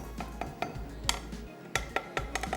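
Freshly roasted ingredients pounded by hand in a home kitchen, heard as a string of sharp knocks and clinks at an irregular pace, close and fairly quiet.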